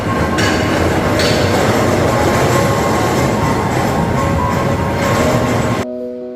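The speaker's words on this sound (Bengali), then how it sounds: "ট্রেনের চাকা খোলা হচ্ছে ও সেই সাথে ট্রেনের পার্টস অংশ আলাদা করা হচ্ছে একটি বিশেষ ট্রেনের মাধ্যমে" Train moving through a railway yard: a loud, continuous rumble with steady metallic ringing tones and occasional wheel squeal, which cuts off abruptly near the end, leaving a fainter hum.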